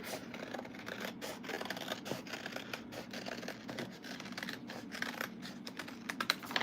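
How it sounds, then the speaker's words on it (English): Scissors cutting along a marked line on a file folder for a Halloween costume piece, a steady run of close, crisp snipping and scraping strokes with no talking. "I'm just going to cut right on the line."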